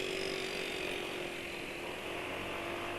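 A Honda engine treated with engine cleaner holds a steady, fairly loud high-idle drone for the whole stretch, its revs hanging rather than dropping, with no talk over it.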